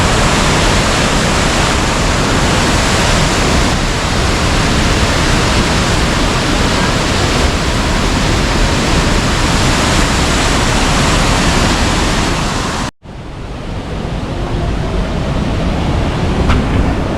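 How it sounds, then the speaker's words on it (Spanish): A roaring waterfall near the source of the Cascajales in Benaoján pours as a dense, loud, unbroken rush of white noise, briefly cutting out near the end before resuming slightly softer. "Sobre todo la cascada del final de allí"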